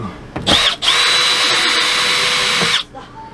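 A power drill drives screws into ceiling paneling in short bursts, with a brief whir, a pause, then a sustained high whine that cuts off sharply, loud and close.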